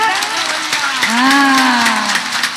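Applause rolls steadily through an audience at a live stage show in Parhda, a dense wash of clapping heard alongside a sustained tonal voice or instrument rising and falling in the background.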